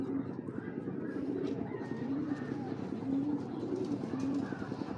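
Giribaz racer pigeons coo steadily and repeatedly at close range, low rolling calls recurring every second or so over a constant faint background hum.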